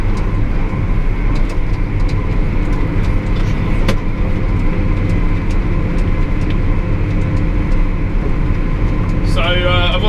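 A John Deere 7R 330 tractor accelerates to full speed along a bumpy road, heard from inside the cab as a loud, steady engine drone with rattles, and a brief beeping tone near the end.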